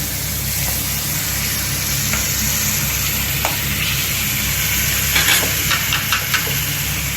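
Mixture frying in a pan with a steady sizzle and scattered scraping stir strokes, a few sharper clinks near the end, no talking.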